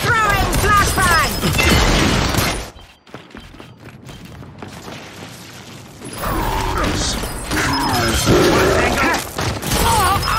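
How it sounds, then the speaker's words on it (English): Flashbang grenade thrown and exploding in Gears 5 multiplayer on the Gridlock map, loud mechanical clatter and gunfire, then a sudden muffled drop to near silence with a ringing tone before the battle noise swells back. "Throwing flashbang!"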